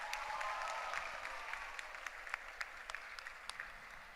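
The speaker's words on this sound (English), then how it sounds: "Can we have a huge round of applause, ladies and gentlemen?" Sustained applause from a crowd at a university graduation ceremony, steady clapping filling the whole stretch with scattered louder claps standing out.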